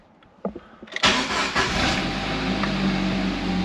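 A Jeep engine, 4.0 or 2.5 litre with an Accel Performance ignition coil, cranks with the key after a few clicks and catches, then settles into a smooth, steady idle close by.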